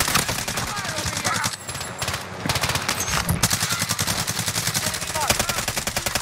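Finn LMG fire in the Warzone video game rattles out in long, rapid automatic bursts with brief gaps, dense and loud, and a voice is faintly heard under the shooting.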